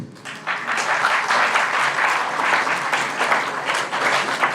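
Audience at a college short film festival clapping loudly and continuously, a dense roomful of hands starting after a brief quiet moment and holding steady to the end.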